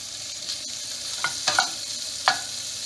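Filling for a spinach and ricotta pie fries in a pan with a soft, steady sizzle, punctuated by a few sharp utensil clicks and stirring scrapes up close, with no voices.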